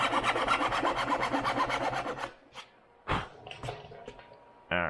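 A hand saw blade is pulled through wood in a fast series of rhythmic rasping strokes to start a groove for a template, then stops, followed by scattered knocks and scrapes and a final short rasp.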